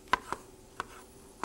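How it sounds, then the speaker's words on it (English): Medium tomatoes sliced with a kitchen knife on a board give four crisp, separate taps spaced unevenly, close and fairly quiet, with no voices. "I'm chopping up what should be 2 large tomatoes"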